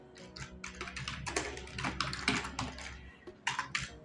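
Quick, close keystrokes clatter on a computer keyboard in an irregular run of taps and short bursts, with a brief pause near the end before a few final presses.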